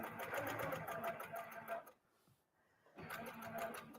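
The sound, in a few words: sewing machine stitching straight lines in free motion quilting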